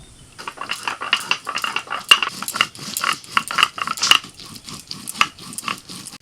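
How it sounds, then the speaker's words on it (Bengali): Whole cumin and two dry red chillies crushed on a stone grinding slab, a rapid run of gritty rubbing strokes and clacks in a steady back-and-forth rhythm, close and fairly loud with no talk. "প্রথমেই অল্প একটুখানি গোটা জিরে আর দুটো শুকনো লঙ্কা।"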